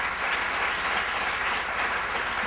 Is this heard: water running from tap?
no